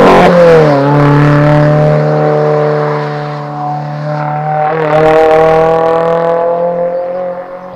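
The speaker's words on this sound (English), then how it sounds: "they have their Track Edition exhaust, which is essentially just a straight pipe exhaust" A car with a straight-pipe Track Edition exhaust revs loudly and close by, holding a strong steady drone that dips briefly and then climbs again, with no talk over it.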